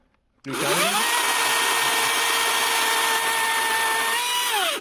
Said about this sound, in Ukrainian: І вона під власною вагою без питань ріже ось такий круглячок діаметром 10-15 сантиметрів.